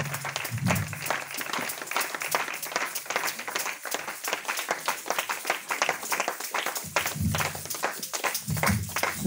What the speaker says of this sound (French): On acclame pour le roi des rois.